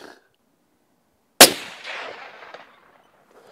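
A single gunshot fired from a crouched, unstable shooting position: one sharp, loud crack after a brief silence, with a rumbling, echoing tail that fades out over about a second.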